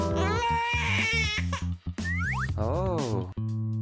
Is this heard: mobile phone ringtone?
no